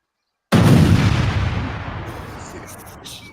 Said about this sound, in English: It's the level of explosions, a serious explosion